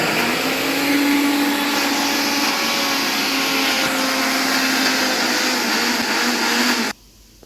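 A mixer grinder grinding coconut with cinnamon and cloves, a loud steady whirring motor drone that runs evenly before cutting off abruptly near the end.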